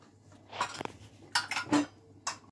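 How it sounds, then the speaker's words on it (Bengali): Clattering pan and lid as water is added and the pan covered while cooking methi malai matar, a few separate metallic clinks and knocks close by, no voices. "মশলা বাটিটা ধুয়ে আমি একটু জল দিয়ে দিলাম, দিয়ে চাপা দিয়ে দিচ্ছি।"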